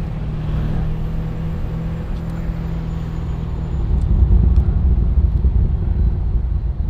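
A new mid-engine Chevrolet C8 Corvette convertible on a ride-along. A continuous deep rumble swells louder about halfway through as the car pulls harder, with no voices over it.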